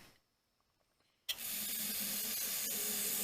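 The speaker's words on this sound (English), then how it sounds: "Take some of this carb cleaner." After a moment of near silence, carb cleaner bursts out into the fuel rail of a 1979 Chevy Camaro with an LS swap, a sudden, loud, sustained close-up hiss that lasts to the end.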